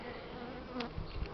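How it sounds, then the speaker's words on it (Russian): Honey bees buzz close by at the hive during spring nest expansion, a steady insect drone with a sharper pass near the end of the short stretch. "Вот уже пчела на фотоаппарат бросает."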